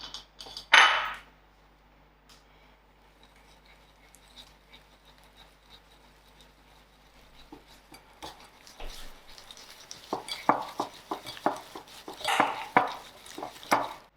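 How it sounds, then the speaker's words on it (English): Butter and sugar are creamed in a bowl for eggless Indian Nankhatai shortbread. A spoon scrapes and taps against the bowl, sparse at first, then turning into a busy run of close, uneven clicks and scrapes. "Now I'm ready to cream my butter and sugar together."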